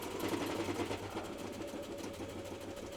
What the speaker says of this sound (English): Let me sew this down real quick